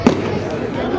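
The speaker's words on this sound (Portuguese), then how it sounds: "ali está a fogueira, fogos de artifício" Fireworks bursting over a São João festival bonfire in São João do Itaperiú, two loud sharp bangs at the start and end with a dense crackling crowd din between them.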